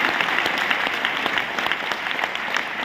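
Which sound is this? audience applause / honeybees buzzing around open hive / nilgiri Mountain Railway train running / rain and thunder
audience applause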